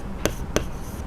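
Two quick sharp taps of marker or chalk writing on a board, close and distinct, a short moment apart.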